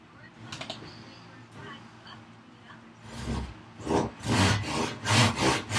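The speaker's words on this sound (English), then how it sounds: "Although this saw is a little dull, it's a whole lot easier to work with because it's so light and nimble" A light, slightly dull crosscut panel saw with eleven points per inch works through wood, starting with soft scraping and then settling into a series of loud, rhythmic rasping strokes, close by and heard alone.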